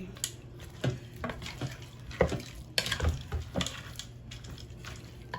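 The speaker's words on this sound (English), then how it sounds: "let me give this a mix to try to incorporate everything" Spoon stirring red beans in a pressure cooker pot, a series of irregular scraping and clinking strokes with wet, soft sloshing, fairly close and moderately quiet with no talking.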